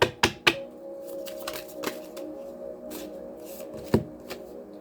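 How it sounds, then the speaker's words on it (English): Tarot cards are shuffled and pulled by hand, with a few sharp riffling snaps at the start and later, then soft sliding and tapping of the deck, close and fairly quiet. "Let's pull a little bit more cards."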